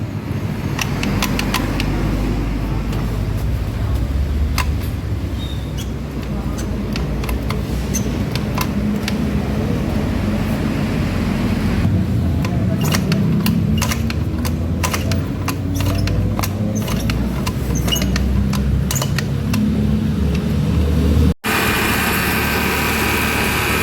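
A Honda Beat FI scooter whose starter makes a clicking noise and which blows thick white smoke runs after a kick-start. Its small engine idles with a steady, busy drone throughout, with faint ticks over the top and a brief cut near the end.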